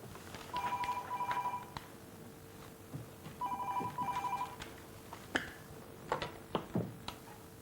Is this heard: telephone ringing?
yes